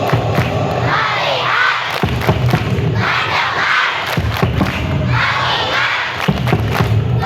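Elementary schoolchildren in a classroom perform the 'tepuk fokus' clapping chant: loud group shouting in unison, punctuated by sharp collective claps and thuds in rhythmic bursts.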